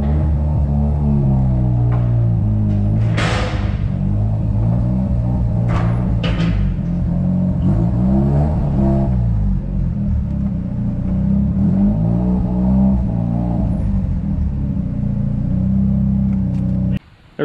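A Mazda RX-7 FD idles loud and close with a steady, lumpy rotary rumble and a few light blips of throttle as it creeps forward onto alignment rack ramps, the engine cutting off at the very end.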